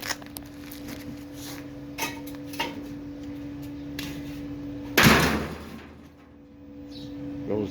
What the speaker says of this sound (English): And the door closes good.